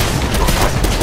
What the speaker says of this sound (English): Someone's busting shots up.